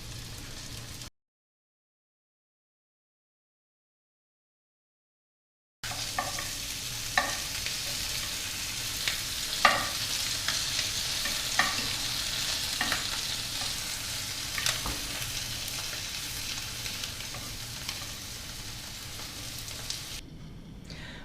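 French toast rolls of bread soaked like pain perdu fry in a pan until golden, a brief cut to silence and then a continuous near sizzle with scattered scraping and stirring knocks.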